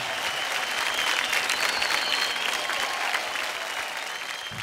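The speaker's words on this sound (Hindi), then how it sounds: "जोरदार तालियां हो जाए हार्दिक और मंजू के लिए" A studio audience on a televised dance competition applauds the dancers Hardik and Manju, steady dense clapping with crowd noise that holds throughout and tapers slightly at the end.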